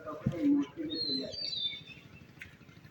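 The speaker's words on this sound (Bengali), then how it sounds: "পাখির কিচিরমিচির" Birds chirp and call on a quiet, secluded island, with thin high tweets threading through the scene while someone talks over them in the foreground.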